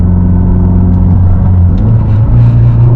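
A modded Mazdaspeed pulls hard in third gear, its engine note rising steadily as it accelerates, with loud, continuous rumbling drone and audible gear-driven whine filling the cabin.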